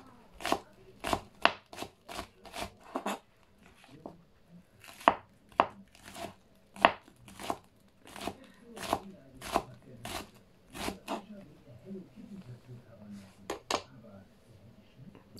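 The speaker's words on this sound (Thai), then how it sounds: "หั่นต้นหอมค่ะ" A knife chops large green onions on a board for a pork belly stir-fry: close, crisp strikes that come in quick rhythmic runs separated by short pauses, with no talk over them.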